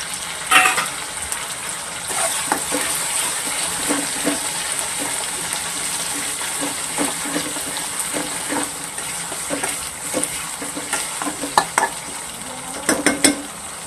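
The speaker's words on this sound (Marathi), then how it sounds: "वाटप ना छान तेल सुटेपर्यंत भाजून घ्यायचं आहे" Ground masala paste fries in oil in a pan for a spicy village-style drumstick curry, with a constant soft sizzle and repeated close scraping and stirring strokes of a spoon throughout.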